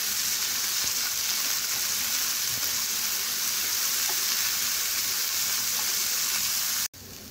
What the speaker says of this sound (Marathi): मूग आपल्याला व्यवस्थित परतवून घ्यायचे